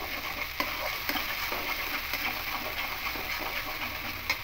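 Salt and turmeric being stirred into a frying mixture in a pan for stuffed pointed gourd, a steady soft sizzle with regular scraping and tapping strokes of a spoon, no voices.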